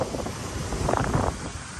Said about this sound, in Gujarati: કારણ કે અત્યારે છે ને બહુ તોફાન જેવું છે